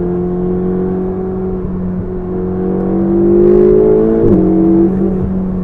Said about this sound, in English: this thing sounds pretty Ferrari-ish to me